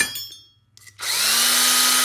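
A bore polishing flap wheel spins up on the shifter bores of a Hurst shifter to clean off high spots. A brief faint whir gives way after a pause to a loud, steady high-pitched grinding whine that rises slightly as it runs.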